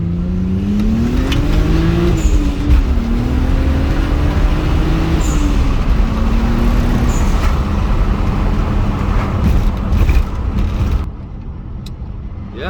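A BMW 135i (E82, N54 engine) drones steadily from inside the cabin, pitch rising and falling as it accelerates, then drops to a quieter hum near the end.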